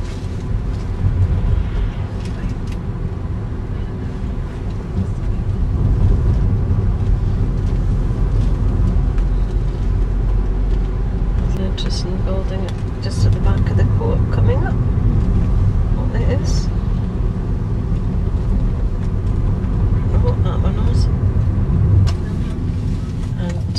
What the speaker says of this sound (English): drive along the main street in Lennoxtown